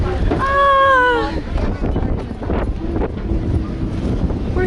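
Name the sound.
wind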